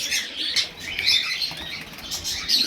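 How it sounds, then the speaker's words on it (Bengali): Several pigeons burst into flapping flight one after another as they leave an opened loft in Kolkata, a close, fluttering rush of wingbeats with faint chirps mixed in. "একে একে পায়রা বেরোচ্ছে"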